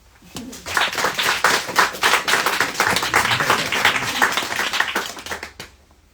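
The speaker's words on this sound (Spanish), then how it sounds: "los recibimos con un aplauso" At a bookshop presentation, an audience claps to welcome the speakers, building quickly from a few hands into lively, uneven applause of moderate loudness, then thinning out and dying away after about five seconds.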